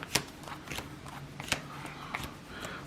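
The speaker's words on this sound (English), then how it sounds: "So I'm gonna power shuffle." A trading card deck being power shuffled up close, a run of sharp quick card snaps and soft slides at an uneven rhythm, quiet and with no talking.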